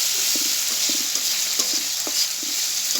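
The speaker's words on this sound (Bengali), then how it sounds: "দিয়া মশলাটা একটু ভেজে নিব যাতে কাঁচা গন্ধটা চলে যায়।" Ginger-garlic paste with cumin and spices frying in a pan, a steady close sizzle with scattered soft stirring scrapes and taps throughout, no talk.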